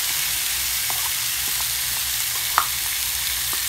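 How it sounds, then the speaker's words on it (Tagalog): Tomato and onion sauté in olive oil with a steady, close broadband sizzle and crackle, a few small pops and one sharper spatter partway through; no talking. "Yung sapat lang para panggisa lang itong tomato at sa onion."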